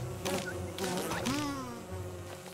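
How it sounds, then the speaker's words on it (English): Angry bees buzzing close by in wavering drones in the video game Don't Starve Together, with bursts of other noise over a low steady hum. "Why is there angry bees up here?"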